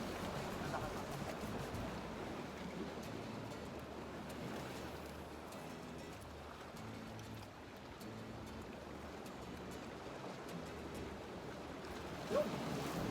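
Heavy sea waves break against the shore at a mackerel fishing spot, a continuous loud wash of surf with wind noise over the microphone.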